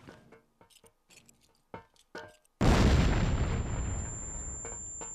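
A grenade explodes in the video game Vietcong. After a few faint clicks and small sounds, a sudden loud, booming blast erupts and slowly decays into a rumbling tail.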